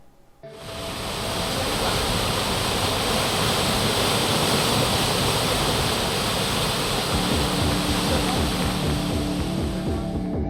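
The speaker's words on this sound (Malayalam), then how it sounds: "Mattannur Keezhallur check dam കരകവിഞ്ഞൊഴുകി" Floodwater pours over the Keezhallur check dam at Mattannur in a dense, continuous roar that swells within the first second and then holds steady and loud throughout, with no voices.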